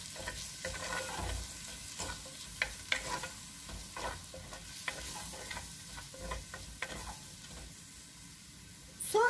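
Chopped dry onion sautéing in olive oil in a heated clay pot, a steady close sizzle with repeated scraping stir strokes throughout and a louder clatter at the end.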